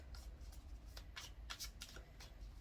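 Tarot cards riffle and slap together in a handful of quick, soft bursts over a steady low hum, fairly close and fairly quiet, with no voice.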